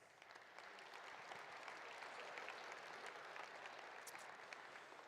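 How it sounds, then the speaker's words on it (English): A crowd at a Saskatchewan municipal awards ceremony gives the Minister a round of applause, steady dense clapping heard at moderate distance for about five seconds. "One more big round of applause for the Minister and the President here."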